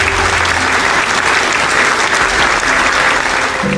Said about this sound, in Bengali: সবাই করতালি দিয়ে তাকে অভিনন্দিত করুন।